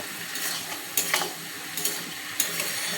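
Vegetable labra of pumpkin, potato and eggplant cooking with mustard in a pan, a soft continuous sizzle broken by a few sharp scraping stirs of a spatula, close and without talk.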